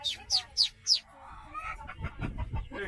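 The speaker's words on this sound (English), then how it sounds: "Got one rooster in there, a little cheeky," Chickens and a rooster in a countryside coop in Vietnam give four sharp, high squawks in quick succession, followed by softer, low clucking and rustling nearby.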